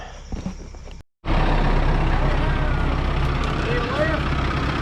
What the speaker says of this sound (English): So I'll grab the tractor, touch this up